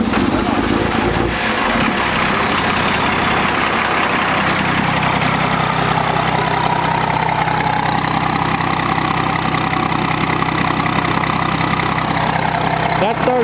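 A Cummins diesel dually pickup with a 5-speed, just cold-started and idling with a loud, steady low rumble throughout, heard close, with people talking over the engine.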